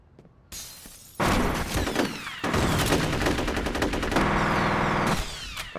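Gunfire from the F.E.A.R. video game: a loud burst of shots, then sustained rapid automatic fire with crashing, shattering impacts, close and continuous for several seconds without speech.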